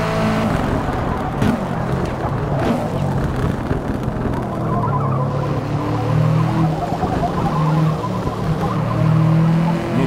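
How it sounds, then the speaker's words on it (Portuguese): Racing cars on the track in a Forza racing game, a loud continuous engine roar with tire squeal and skidding, several cars droning together with no talk over it. "Nossa, entrou uma pá de carro na pista."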